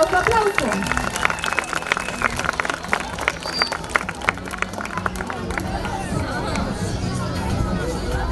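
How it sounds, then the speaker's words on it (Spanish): Guests at a quinceañera applauding the hosts with steady, dense clapping amid crowd chatter, the sound lasting throughout at moderate loudness. "Démosles un fuerte aplauso."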